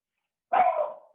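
A single dog bark, close and fairly loud, with a sharp onset after silence and a short fading tail.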